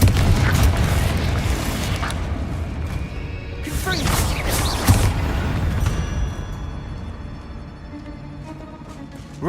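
A blasting spell goes off in the Witch Simulator video game, a deep booming explosion with a sharp burst in the middle, trailing into a rumbling decay amid continuous game noise.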